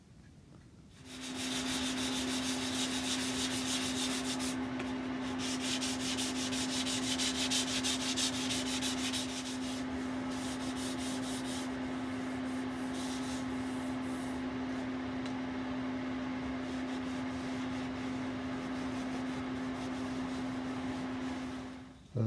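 A stained wooden piece being polished and rubbed by hand to fake an aged patina, giving a steady, continuous close abrasive sanding hiss with a faint constant hum underneath, running unbroken for about twenty seconds without talk.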